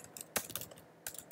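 Quick typing on a computer keyboard while coding a web page header in HTML and CSS, with irregular close clicks and a few louder key strikes, heard alone.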